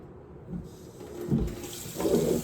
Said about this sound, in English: gonna top off this cold brew